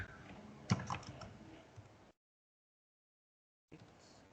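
Quiet, close typing on a computer keyboard while entering Python code: a short burst of clicky keystrokes, then about a second and a half of silence before faint typing resumes.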